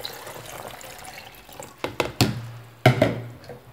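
Water poured into a lemon and apple juice mix with sugar, heard as a short close splash and gush after a few faint knocks.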